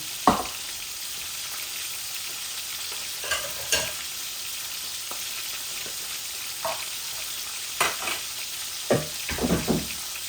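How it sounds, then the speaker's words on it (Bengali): Pangas fish frying in oil, a quiet steady sizzle with occasional clinks and scrapes of a utensil against the pan. "আস্তে আস্তে মাছগুলো ভাজা ভাজা হয়ে যাক,"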